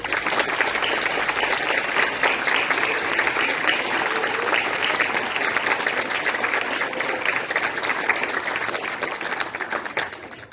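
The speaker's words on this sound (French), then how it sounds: "On peut les applaudir" Sustained audience applause at a school ceremony in Comines, steady dense clapping filling the hall at a loud level for the whole stretch, tapering slightly toward the end.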